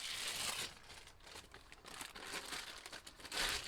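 Paper is peeled back off a freshly spray-painted surface with a close crinkling, tearing rustle that swells at the start and again at the end.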